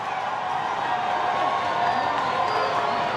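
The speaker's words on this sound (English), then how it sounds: "The crowd is loving it." A stadium crowd at a CAF COSAFA Women's Champions League football match between Gaborone United Ladies and UWC roars and cheers in a continuous, dense swell of voices.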